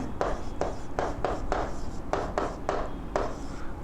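Chalk or marker strokes on a classroom board during a solid-state chemistry lesson, a rapid series of short scratchy strokes in uneven bursts, close and clear.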